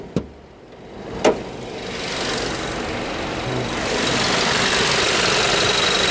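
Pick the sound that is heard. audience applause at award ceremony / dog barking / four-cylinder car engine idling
four-cylinder car engine idling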